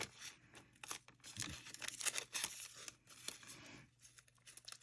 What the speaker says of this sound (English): Sorry, I'm cutting them off camera.